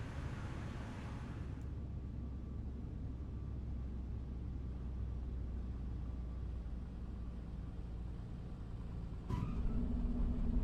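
A Piper Comanche light aircraft engine throttled to idle in a flight simulator gives a steady low drone with a faint hum, unbroken throughout, and one brief click near the end.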